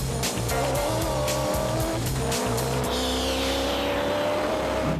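A fast four-wheel-drive car, a Revo-tuned model, drives hard with a high revving engine and repeated gear shifts, then its tires squeal loudly as it corners, heard steadily and up close.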